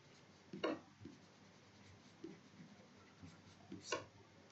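Marker or chalk strokes on a classroom board, a few short separate scrapes and taps close by against a quiet room.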